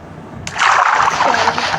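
A character splashes into water in the Minecraft video game, a sudden loud burst of sloshing that starts sharply and washes on to the end of the clip.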